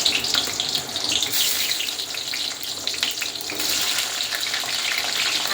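Large pieces of chopped medium onion fry in oil with a steady, close hiss and crackle. The sound runs throughout with slight swells, and no one speaks.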